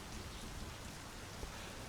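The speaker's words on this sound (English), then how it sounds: "It started to rain!" Rain begins falling in the driving game My Summer Car, a dense, even, soft hiss of drops with no talking.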